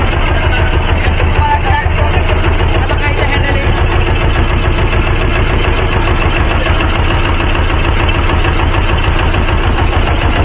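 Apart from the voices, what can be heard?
boat engine running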